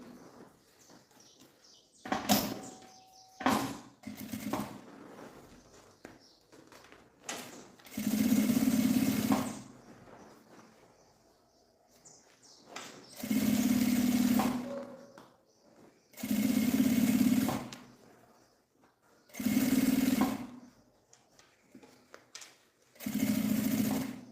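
Sewing machine topstitching the lining of a handmade bag, running in about seven short bursts of rapid mechanical stitching, each lasting a second or two, separated by quiet pauses and handling noises.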